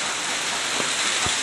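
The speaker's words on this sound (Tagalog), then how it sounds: "Rainy, it's so rainy guys." Heavy rain pours in a rural outdoor setting, a dense, even wash of hiss that fills the short stretch without break, with a couple of faint low thumps beneath.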